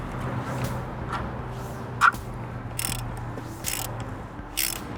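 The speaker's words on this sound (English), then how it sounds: "you can grab your 24 millimeter socket to pull your filter out" A 24 mm socket ratchets loose the oil filter housing on a Jeep Gladiator, giving several short clicking bursts spread over a few seconds against a steady low garage hum, with one sharper metallic clack near the middle.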